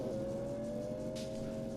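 Kitsune drift car engine in CarX Drift Racing Online on strict modification, a steady, fairly quiet held drone with a brief hiss of tire or exhaust noise partway through.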